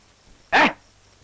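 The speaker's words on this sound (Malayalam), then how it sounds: "ആരാത്? പട്ടി." A single sharp bark from a dog at night, close and loud, standing alone against a quiet background.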